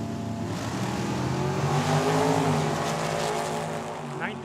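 A dragster at Tucson Dragway sits with its engine burbling, then swells into a loud launch, the roar climbing in pitch near the end with a hint of tire noise.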